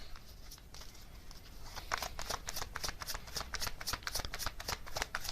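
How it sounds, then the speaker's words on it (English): Oracle cards being shuffled by hand during a tarot reading, soft rustling at first, then a steady run of rapid, crisp riffling flicks, close and continuous. "let's get some oracle cards for some more context here"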